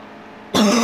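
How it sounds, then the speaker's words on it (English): After a short quiet moment, a single sharp, close cough bursts out loudly and rasps to the end. "Sorry about the coughing, I'm just a little sick."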